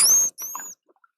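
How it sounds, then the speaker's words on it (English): A recorded dolphin whistle: two high, thin tonal sweeps in quick succession, the second gliding upward slightly, clear against silence and over in under a second. "This is a dolphin whistle,"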